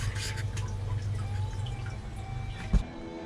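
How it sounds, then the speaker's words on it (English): Water drips and trickles inside an aeroponic cloning machine holding tomato cuttings, a soft, steady patter with one brief louder splash near the end, close and quiet. "I'm just gonna plug this in. Make sure that they are getting the water running over them."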